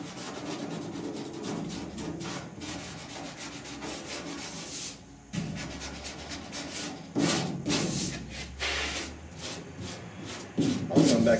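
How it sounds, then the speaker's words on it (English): Body filler on a 1966 Ford F100 truck cab rear panel being block sanded with 80 grit paper, a close, loud, rhythmic rasping of repeated strokes with brief pauses. "Leave yourself a little bit high so you can get in there with 80 grit and work it on down."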